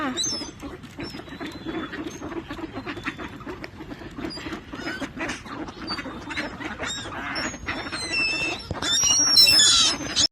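A flock of ducks quacks continuously and chatters busily while feeding, with scattered splashy pecking sounds and a louder burst of quacks near the end.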